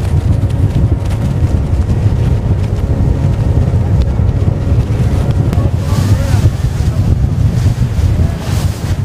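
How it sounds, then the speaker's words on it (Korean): A small boat's engine roars over rushing, churning rapids on the river approaching Iguazu Falls, with heavy wind buffeting the microphone throughout. "폭포와 가까워질수록 물살이 더 거세집니다. 때문에 작은 보트 역시 춤을 추듯 심하게 요동칩니다."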